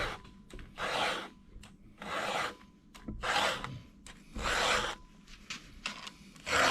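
A chainsaw's cutting teeth are sharpened by hand with a file guide, with about five long rasping file strokes in a steady rhythm, each separated by a short pause, close and clear.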